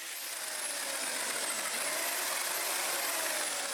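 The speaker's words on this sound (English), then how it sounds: "I think I know where I want to start, with this cement mixer." A cement mixer runs with a rod and a skipping rope fixed to it, giving a steady, unbroken motor drone and rumble throughout, with no voices.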